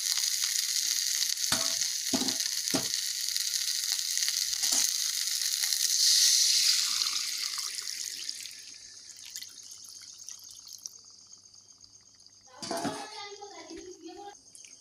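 Water poured into a pan of frying masala for an egg and poppy-seed curry hisses into a loud, bright sizzle that slowly fades, with a few clinks of a spoon and a later burst of stirring and bubbling.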